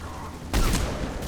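Gunfire in a Battlefield video game, one sudden loud burst of shots with a booming tail that carries to the end of the short moment.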